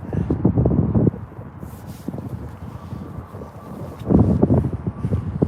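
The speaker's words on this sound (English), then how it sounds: "Windy as anything." Gusty wind buffets a microphone outdoors at Birmingham airport. It makes a loud, rumbling roar that surges at the start, eases through the middle and swells again near the end, with no speech.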